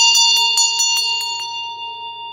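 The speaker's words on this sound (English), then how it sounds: "Let's ring the bell." A bell rings in a quick series of about seven bright, ringing strikes over roughly a second and a half, then a sustained tone decays, loud and close with no talking.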